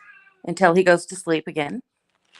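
A house cat meows a few times in quick succession, close and fairly loud, with a person's voice talking in between.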